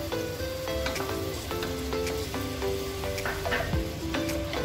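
Onion with ginger-garlic paste sizzling steadily in a hot pan for a mutton rava biriyani, a dense continuous frying crackle with occasional stirring scrapes, close and fairly loud.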